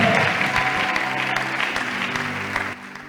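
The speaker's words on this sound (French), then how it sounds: "Let's clap for the Lord." A church congregation applauds in a steady, dense wash of clapping that fills the room, tapering slightly near the end, with faint voices underneath.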